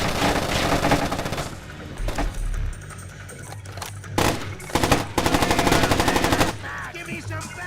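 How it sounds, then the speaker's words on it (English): Rapid gunfire bursts from the stealth action video game Splinter Cell Chaos Theory, loud and dense, with machine-gun rattles and sharp single shots layered over continuous game background noise. "I'm taking fire!"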